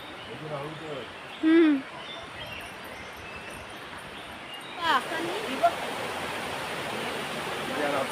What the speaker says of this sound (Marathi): नुकतंच पाऊस पडल्यामुळे असं छान धबधबा प्रवाहित झाला